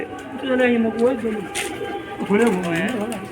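Pigeons in a loft coo in soft, low, throaty rolls, close by. Someone talks over them, and there is a brief rustle of wings.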